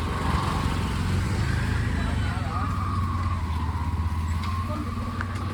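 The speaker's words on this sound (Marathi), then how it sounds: "ऑटो रिक्षा आपल्या इंडियन." A motorised auto rickshaw putters past at close range through a busy Phnom Penh market in Cambodia, its steady engine drone running throughout while someone talks over it.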